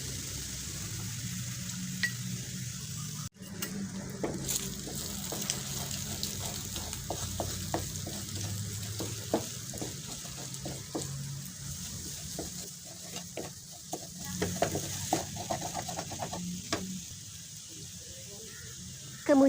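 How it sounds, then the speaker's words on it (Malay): Beaten eggs scrambled in a hot wok, a steady oily sizzle and hiss running throughout with frequent scraping, clattering stirs of a spatula, fairly close and moderately loud, no voices over it. "Pecahkan beberapa biji telur ke dalam kuali itu dan kacau sampai jadi scramble egg"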